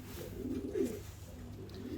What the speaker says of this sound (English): so many pigeons now.